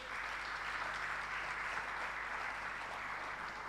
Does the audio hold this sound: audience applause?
yes